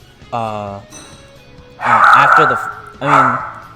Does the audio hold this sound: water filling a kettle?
no